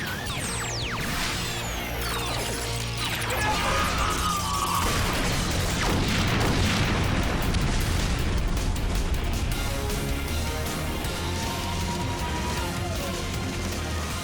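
Robot weapon fire from the Megaforce Supreme Knight blasts out as a dense run of explosions and crashing booms with mechanical clatter, loud and sustained throughout, a voice briefly heard amid the barrage.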